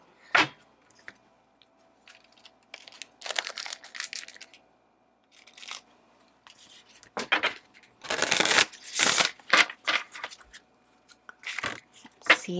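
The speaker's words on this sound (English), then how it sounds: "let's shuffle these oracle cards" Bursts of oracle card shuffling, riffling and flicking in several quick runs separated by pauses, close and fairly loud, with no talking.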